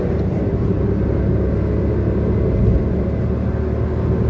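Steady, loud in-cabin engine and road rumble from a 2021 Maruti Wagon R CNG car accelerating hard through the gears on a highway, a continuous drone with no break or voice.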